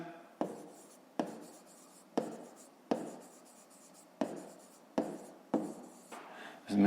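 A pen writes on paper during a fifth-grade maths exercise, quick scratchy strokes repeating in short bursts about once a second, close and clear with no talking.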